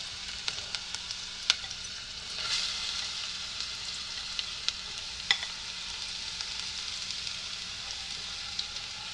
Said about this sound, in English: I'm going to go ahead and add my cauliflower.